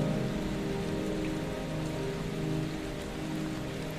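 Steady rain falls on a surface in a constant dense patter, heard alone, with no voices and no breaks.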